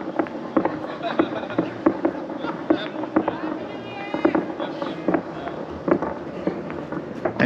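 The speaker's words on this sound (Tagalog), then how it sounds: "Ayan, puputukan na." New Year fireworks burst outdoors in Canada as a steady run of sharp cracks and pops, some nearer and louder, over a low rumble while people talk and call out in the background.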